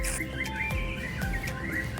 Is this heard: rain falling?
no